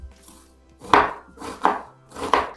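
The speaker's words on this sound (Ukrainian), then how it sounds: "Цибулю наріжу кубиком." A knife dices onion into cubes on a cutting board, three distinct strokes at an unhurried, even pace, close and clear with no talking.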